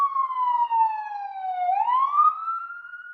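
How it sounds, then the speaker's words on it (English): An ambulance siren wails outside, one long sustained tone sliding down and then rising again, loud and clear with no other sound over it. "as we hear the ambulance outside"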